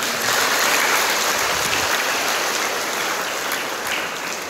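An audience in Batam applauds to welcome a visiting congregation: loud, thick clapping like heavy rain, sustained evenly from start to finish with no voices on top.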